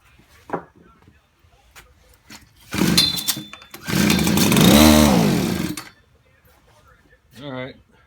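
A Tecumseh TC200 engine on a Murray rototiller, low on spark and primed with a little fuel, kicks over in two rough bursts, the second longer and louder, between quiet pauses and a faint knock.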